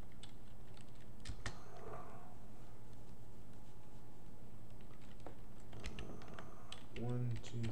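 Close computer keyboard typing while writing Python code, in short irregular bursts of clicky keystrokes with pauses between, a person's voice briefly heard near the end.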